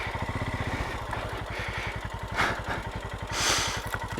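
A Royal Enfield Himalayan 411 motorcycle engine runs before an enduro track day in Cornwall, giving a steady, close, low thumping beat throughout, with a couple of brief louder surges partway through.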